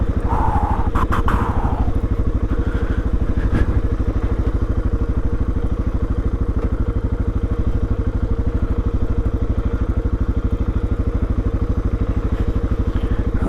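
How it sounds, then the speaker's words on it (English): A Suzuki DR650 dual-sport motorcycle climbing a steep, loose, hot hill, its single-cylinder engine thumping steadily and loudly close by, with brief clatter of loose ground near the start. "the Suzuki really crushed that climb up Hellhole"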